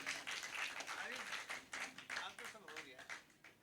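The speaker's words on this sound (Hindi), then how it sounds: "हाथ ऊपर करके जोरदार तालियां बजाइए।" Audience at a Braj-language poetry event clapping loudly, dense rapid hand claps in uneven bursts close by, with a voice partly over them.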